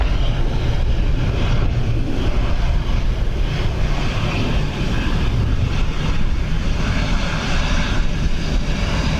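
A continuous jet engine roar rumbles steadily from an aircraft taxiing at Dublin Airport during the crosswinds of Storm Bert, a dense, loud drone that holds without pause throughout.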